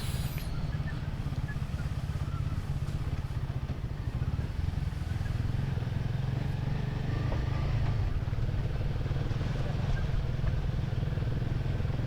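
Steady motorcycle engine drone while riding, with constant road and wind noise throughout, no talking.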